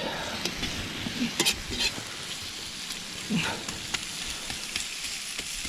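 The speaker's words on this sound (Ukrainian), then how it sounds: "рум'янимо нашу цибульку" Chopped onions fry in oil in a large cauldron (kazan) for a bull testicle dish, giving a dense, continuous close-up sizzle with a few soft stirring scrapes.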